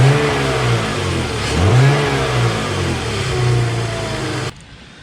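A car engine with its stock airbox revs loudly and steadily, the pitch swelling and settling across several throttle blips before cutting off abruptly near the end.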